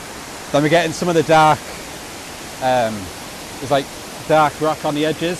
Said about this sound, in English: Then we got the waterfall making like a triangle.